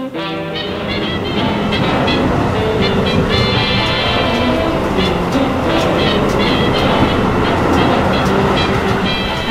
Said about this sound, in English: Long train rides.